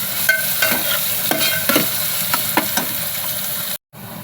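Onion and garlic fry in a pan with a bright, steady sizzle while a spoon stirs and scrapes in repeated clinking strokes, close and loud, before a brief cut near the end.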